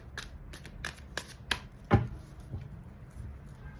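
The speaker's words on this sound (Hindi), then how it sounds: "I like to generally spread my cards." Tarot cards are handled and laid out in a spread, giving a series of soft papery snaps and flicks at irregular intervals, with one sharper slap near the middle, fairly quiet and close, no talk.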